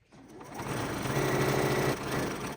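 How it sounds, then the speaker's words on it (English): A sewing machine runs steadily as it stitches down a fabric flap, giving a close, continuous motor whir for about two seconds with no talking. "I'll just go ahead and stitch it down"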